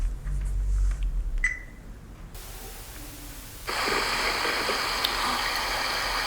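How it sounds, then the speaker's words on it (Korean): Recorded stream water flows through a mountain valley at Songnisan, a steady hissing rush that starts after a few quiet seconds of faint handling sounds and then continues evenly and fairly loud. "계곡 물소리."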